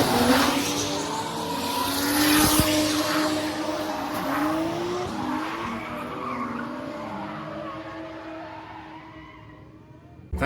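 Drift car skidding with loud, sustained tire squeal and engine roar, the screech sweeping and wavering over about ten seconds before tapering off.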